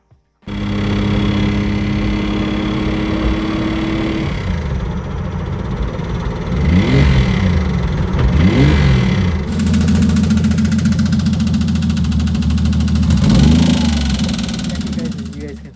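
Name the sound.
damaged drift car engine revving and knocking, possible stuck valve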